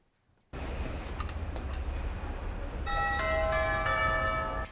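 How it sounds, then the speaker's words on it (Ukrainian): An electronic chime at the baby hatch of a Kyiv reproductive centre signals a newborn's arrival: a short run of clear, stepped tones that rings out partway in over a steady background hiss and keeps sounding to the end. "Цей дзвоник тут сповіщає про особливих гостей."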